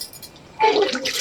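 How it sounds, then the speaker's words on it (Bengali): Running water splashing as dishes are washed in a home, starting midway after a quiet moment and continuing steadily to the end, close and moderately loud. "থালা বাসন ধোবো না? লাও ধুয়ে নাও।"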